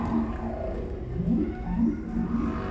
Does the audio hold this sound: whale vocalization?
yes